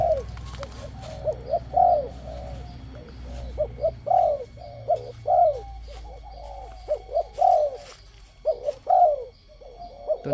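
Spotted dove, a tame mature bird of the Thai ต่อดิน cooing line, gives repeated rhythmic cooing phrases, clear and fairly close, over low steady background rumble.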